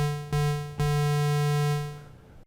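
Arturia MicroFreak synthesizer playing a simple, low tone from its BasicWaves oscillator with the octave dropped; a bright, buzzy sustained note retriggered twice in quick succession, then held before fading out, with no talk.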